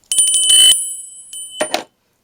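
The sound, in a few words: hand-carved beaver bell ringing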